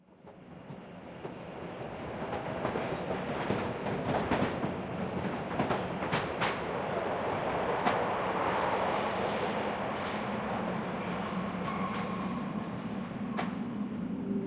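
Train from the Art of Murder: FBI Confidential game rolling steadily along the rails, a continuous rumbling clatter with squealing wheels and occasional clicks, building up and holding loud throughout with no voices.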